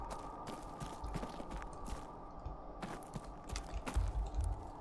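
In the video game Seance of Blake Manor, horse hooves clip-clop faintly on a hard surface in an uneven walking rhythm, with soft ambient background and no voices.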